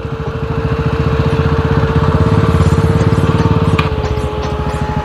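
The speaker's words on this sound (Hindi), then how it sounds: "भाई यहाँ से हमें घुसानी पड़ रही है अपनी बाइक" A KTM 390 motorcycle on an off-road track runs at a steady, rhythmic idle with a chugging single-cylinder pulse. The engine is loud and close and keeps going for the whole stretch.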